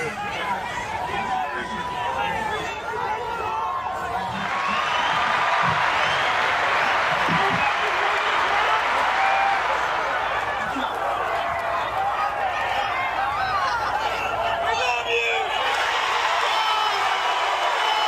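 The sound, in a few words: crowd cheering and applauding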